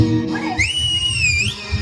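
A loud, shrill whistle rises and then holds steady for about a second in a comedy scene, standing out over low background noise.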